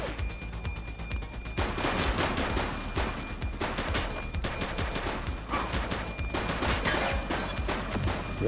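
Rapid bursts of gunfire during a police shootout in the video game The Precinct, repeated volleys and clustered shots crackling loudly over several seconds with brief lulls between them.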